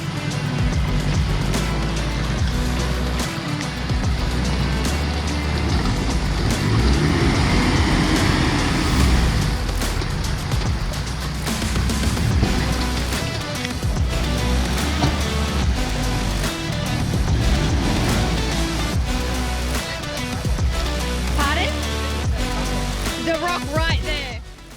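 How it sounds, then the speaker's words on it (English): A Mazda BT50 four-wheel drive ploughs through a river crossing in rugged overland country. Its engine rumbles continuously and loudly while water rushes and churns around it for the whole stretch, with intermittent splashing surges. "it was now Nathan's turn to give it a go in the BT50"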